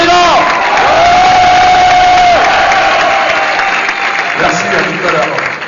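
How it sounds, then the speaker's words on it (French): Loud applause and cheering from a crowd at a live comedy show fill the room steadily, with shouts and whoops rising over the clapping and a voice calling out at times. "On l'applaudit bien fort"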